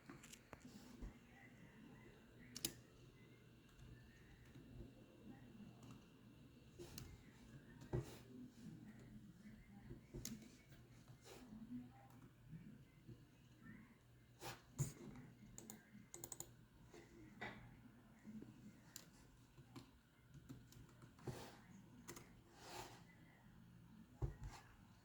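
Faint, scattered keyboard clicks come from someone typing code on a computer while programming a servo joint, with sparse keystrokes and occasional sharper taps spread over a quiet background.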